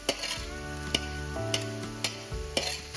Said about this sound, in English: Hopefully you can hear me over the sizzling.